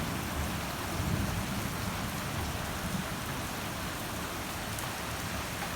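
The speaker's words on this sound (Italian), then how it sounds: "Minchia se piove." Heavy rain pours steadily during a late-August thunderstorm in Sardinia, a dense, even hiss of downpour close by with no voices.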